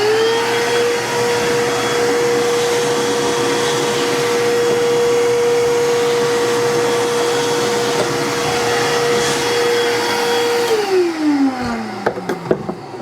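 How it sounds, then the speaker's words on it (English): A vacuum cleaner sucks debris out of a Genmitsu Sainsmart 4040 Reno CNC machine, a loud steady whine running for about ten seconds before it powers down and winds away, with a few clunks at the end. "I'll vacuum that out, show you how that works."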